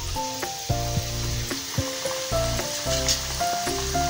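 Maida and moong dal chakli deep-fry in hot oil, a soft, continuous sizzle running underneath louder background music.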